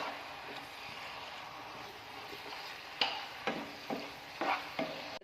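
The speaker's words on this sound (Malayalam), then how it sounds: "അതുവരെ നമുക്കിതുപോലെ ഒന്ന് ഇളക്കി കൊടുക്കാം" Sugar and grated coconut bubbling together in a pan, with a soft continuous simmer joined in the second half by several distinct spoon-scraping strokes, close but fairly quiet.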